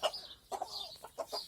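Chickens cluck in a garden with a rooster among them, giving several short, soft bursts of clucking spaced over a moment, close and fairly quiet.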